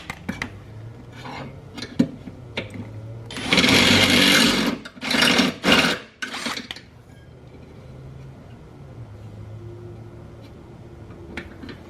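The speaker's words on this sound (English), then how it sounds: "I just need to drill out this little piece." A power drill bores out a small piece during bolt-on modifications to a Ford Mustang GT350, with a loud, close, buzzing run of about two seconds, then a few shorter bursts, amid quiet handling noises.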